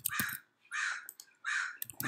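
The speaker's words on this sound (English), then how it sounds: "This is fucking crow." A crow caws three times in a slow, evenly spaced sequence, loud and close, with a fourth call starting at the end.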